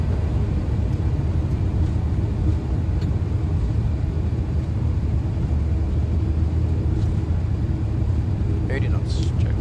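A Boeing 737 on its takeoff roll at Rotterdam, a steady loud broadband engine roar from inside the aircraft that holds constant throughout, with brief cockpit voices over it.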